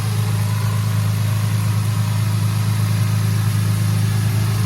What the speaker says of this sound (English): I'm gonna let it idle for maybe 2-5 minutes.